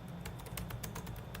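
Rapid, irregular keystrokes on a computer keyboard while a prompt is typed into a website, close and fairly quiet, with no talking.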